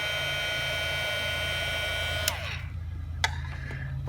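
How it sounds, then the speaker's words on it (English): A long-unused heat gun blows hot air in a steady, loud whooshing hum close by, then cuts off, leaving a few faint clicks and knocks. "this heat gun hasn't been used for a long time."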